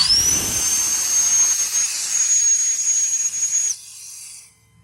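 Air compressor on a 2019 Peterbilt 337 mechanics truck engaging, a loud steady hiss with a high whine for several seconds, then cutting off abruptly and fading to quiet.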